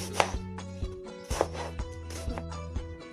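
Green tomatoes are sliced not too thin on a board, with several separate knife strikes at an uneven pace, close and fairly crisp, over soft background music.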